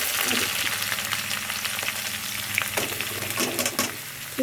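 Onions and cumin frying in hot oil for bhindi sabji: a steady, close crackling sizzle throughout, with a few light clinks and stirring scrapes near the end.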